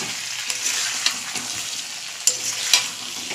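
Chicken kosha fries dry in a pan after a long covered cook, its oil separating, as a spatula stirs it: a bright steady sizzle with a few sharp scrapes and clacks up close, no voices.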